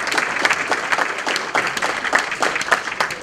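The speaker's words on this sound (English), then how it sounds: "Can we have a round of applause for our candidates here tonight?" Audience applause for school board candidates at an evening candidates night, a dense steady patter of many hands clapping close by for several seconds with no voices over it.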